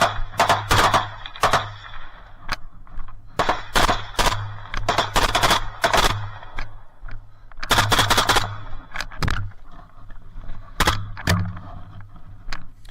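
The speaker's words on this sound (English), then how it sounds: "We now hear some rifle fire." Rifle fire in war combat footage from the trenches of the Russia–Ukraine conflict, loud rapid bursts and single cracks coming in clusters, with a low steady hum beneath and no voices.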